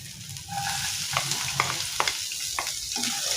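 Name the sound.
sautéing Chinese sausage, dried meat and dried shrimp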